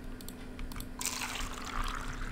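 Water pours from a can onto a plant in a horror video game, a steady splashing trickle that starts after a second and keeps running over a low background hum, with no one talking.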